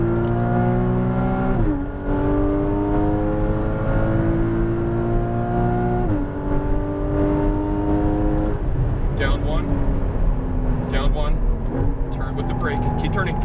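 Porsche Cayman GTS engine revving hard on a race track, pitch climbing through gears with shifts, loud and close inside the cabin while an instructor talks over it.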